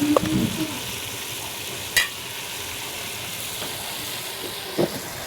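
Food being stirred in a frying pan, a steady loud sizzle running throughout with a couple of brief metallic clicks and knocks from the utensil.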